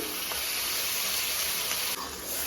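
Ground tomato masala fries in hot oil with a steady, even sizzle and hiss throughout, close and continuous, with faint stirring.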